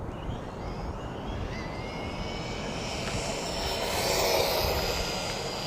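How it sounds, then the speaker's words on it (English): A small 1/12 scale RC buggy accelerates hard, a continuous high-pitched electric motor whine rising in pitch and growing slightly louder as it speeds past, with steady outdoor background noise and no talking. "That's getting up pretty quick, y'all, especially for a little 12 scale buggy."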